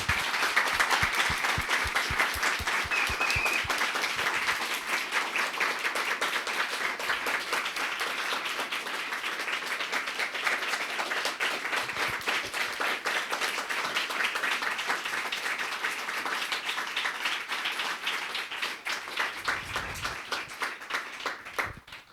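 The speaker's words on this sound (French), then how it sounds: "je voudrais que peut-être on félicite et on applaudit les camarades pour leur travail." An audience at a solidarity evening for the Lebanese people applauds the comrades at length, with some individual sharp claps standing out early before the dense clapping settles into a long, steady ovation.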